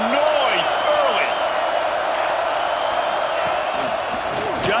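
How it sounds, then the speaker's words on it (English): A roaring stadium crowd in a college football video game with TCU Horned Frogs keeps up a steady, dense wall of noise with scattered whistles and shouts, under a commentator's voice. "This crowd bringing the energy and noise early."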